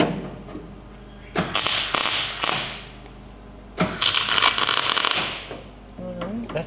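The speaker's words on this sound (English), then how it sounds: "This is ready to be plug welded in place" A brace is plug welded onto the body of an FJ45 Land Cruiser with a MIG gun. Two bursts of crackling, sizzling weld noise come a few seconds apart, close and fairly loud, each fading into brief gaps.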